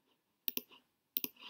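Mouse clicks while working in TeslaSCADA2 software, heard as two quick pairs of sharp, close clicks about half a second apart, with no one speaking.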